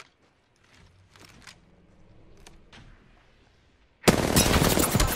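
Rapid automatic gunfire in the video game Apex Legends bursts in loudly near the end, a dense continuous volley, after quieter game sounds and scattered faint shots.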